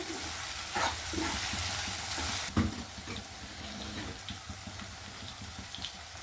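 Cooked rice being stirred with salt in a hot pan for spiced fodnicha bhat: continuous close frying hiss with scattered scraping and stirring knocks, one sharper clatter midway.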